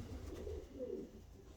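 Pigeons coo softly inside a pigeon loft, two low rolling calls close by over a faint room hum, with no talking.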